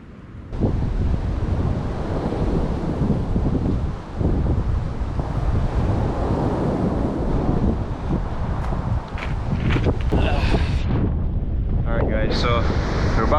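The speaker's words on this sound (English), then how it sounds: "the sea is very rough." Rough sea on the Jamaican coast churns in a constant loud roar of surf, with heavy wind buffeting the microphone and occasional sharper splashes near the end.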